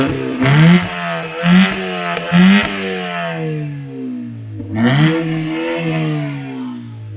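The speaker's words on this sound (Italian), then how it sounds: "Sì, dai una sgasata." A Ford Fiesta Mk7 revving through its exhaust system in a series of sharp throttle blips, three quick rising rasps, then a pause and two more, each settling back to a steady idle.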